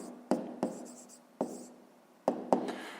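Handwritten numbers going down on paper, soft scratchy pen strokes punctuated by several distinct taps at an uneven pace, close and quiet.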